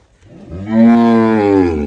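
A Cholistani Friesian cross cow gives a single loud, long moo close by, rising quickly and holding steady before trailing off.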